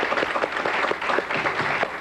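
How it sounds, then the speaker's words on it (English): Clapping from a studio audience at a 1980-81 high school quiz bowl quarterfinal, a short, lively burst of many hands in a busy, uneven patter, close and fairly loud, with no talking over it. "Let's give him a nice round of applause"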